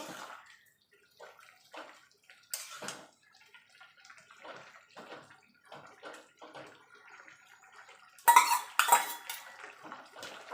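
A metal spoon scrapes and clinks around a pot as potato and lentil-dumpling curry with cumin paste and green chillies is mixed, a series of quiet intermittent scrapes with two louder clanks near the end.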